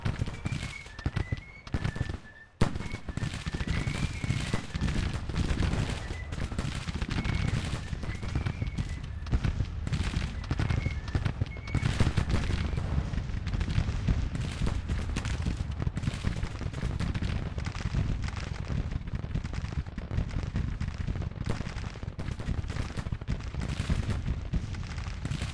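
Battle gunfire and artillery in the Grand Tactician Civil War strategy game, dense continuous crackling musket volleys with heavy booms throughout, a sharp loud blast near the start, steady and sustained.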